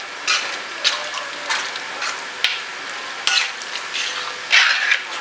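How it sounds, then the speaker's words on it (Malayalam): A spoon stirring Kerala boti curry with cooked green plantain in a sizzling pan, with a series of scraping strokes every half second or so over a steady fry, close up and with no talk. "നല്ലോണം ഒന്ന് മിക്സ് ചെയ്ത് കൊടുക്കാം."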